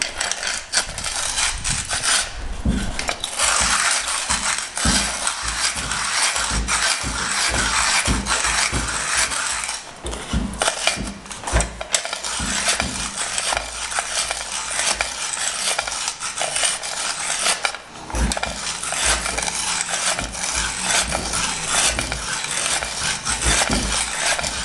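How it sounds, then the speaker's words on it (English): A 1930s PeDe Wandmühle wall-mounted hand-cranked coffee grinder grinding coffee beans, a steady close crunching and rasping with rhythmic mechanical clicks from each turn of the crank, continuing alone for the whole stretch. "And then you just grind as you go."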